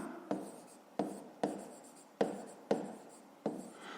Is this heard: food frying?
no